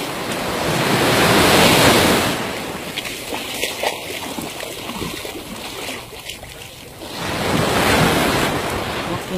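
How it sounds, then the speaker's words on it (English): Ocean surf rolls onto a sunny beach at Siargao in the Philippines, a surfing spot: a broad, steady roar that swells loudest at the start and again near the end, with gusty wind buffeting the microphone and no talking. "Some nice waves."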